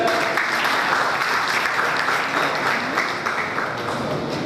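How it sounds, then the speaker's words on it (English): A seminar audience applauds loudly and continuously, a dense wash of clapping that stays steady for several seconds. "now please welcome with lot of applause"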